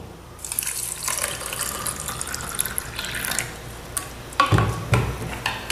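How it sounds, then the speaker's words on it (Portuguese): Tap water runs and splashes as it is poured into a drinking glass, a continuous gurgling stream with a few louder bursts and clinks toward the end, no voices. "a gente vai colocar em um deles a água da torneira"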